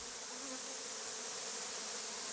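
Honeybees buzz densely around a crowded, overfull hive, a steady close hum with no pauses or speech.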